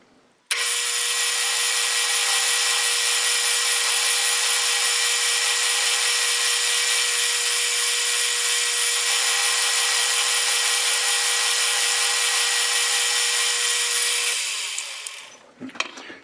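A metal lathe taking heavy cuts on a workpiece being turned down toward 7/8 inch gives a steady, loud, tonal machining drone. It runs unbroken for about fourteen seconds, then winds down and stops.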